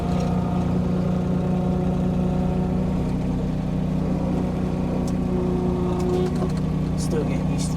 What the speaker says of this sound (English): Still getting used to this tractor as well.